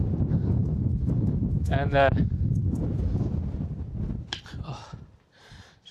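Wind gusts roar and buffet the microphone near a radar tower bunker entrance on open hills. A voice briefly cuts in over the noise, which drops away near the end.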